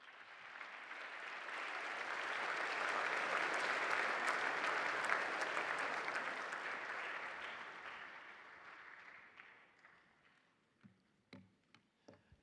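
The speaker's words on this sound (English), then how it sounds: "let's all give him a round of applause as he comes forward." An audience in Atlanta applauds a guest coming forward during a Christian Emphasis Week gathering, a broad wash of clapping that swells, holds for several seconds, then thins into scattered claps.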